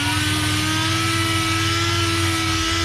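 An air-powered wire wheel, run off a large compressor, scrubs rust from a salvaged cast iron printer's table, making a continuous loud grinding whir with a steady hum.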